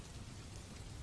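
Steady rain falls as soft, continuous ambience for a Gotham night sleep story, a faint even patter with a low rumble underneath and no voices.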